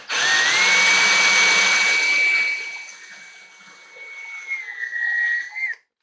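A motorized wire stripper pulls badly kinked scrap copper wire through, a loud steady whining motor tone at first that drops to a lighter, uneven whir before cutting off abruptly.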